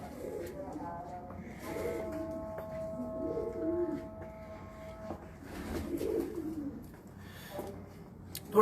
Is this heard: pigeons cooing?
yes